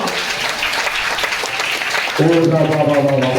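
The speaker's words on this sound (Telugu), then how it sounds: "చప్పట్లకు దేవుడికి స్తోత్రం." A church congregation claps together, a brief burst of applause that gives way to a raised voice speaking over the room.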